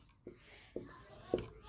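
Chalk writes on a classroom board: three short, scratchy strokes spaced about half a second apart, faint and close, with a soft murmur of voice in the background.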